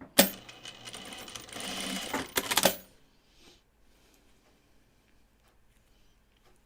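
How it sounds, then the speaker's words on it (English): A sewing machine runs in a quick, loud burst while stitching down part of a Kelly anorak by Closet Core Patterns. The run stops abruptly just under three seconds in, and near-silence follows. "And let's just sew this one down too."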